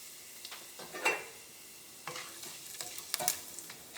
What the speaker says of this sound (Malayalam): ഈ ഗരം മസാല നമ്മളിങ്ങനെ വറുത്തെടുക്കുമ്പോൾ ഒരു മീഡിയം ഫ്ലെയിമിൽ വയ്ക്കാം